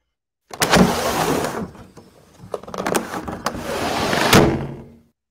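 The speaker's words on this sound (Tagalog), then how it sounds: "Ito daw po yung tunog ng pagbubukas ng pinto or pintuan." A door being opened: a sliding scrape and rattle, a pause with a few sharp clicks and knocks, then a second longer rolling slide ending in a thud, close and clear with no talk.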